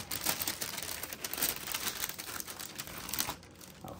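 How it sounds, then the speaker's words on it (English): A Tiffany Air Force 1 1837 sneaker is unwrapped from its wrapping bag, with close, continuous crinkling and rustling of the material that drops off near the end. "your shoe is completely wrapped in the bag as if it were a gift of some sort. So let's unwrap that carefully."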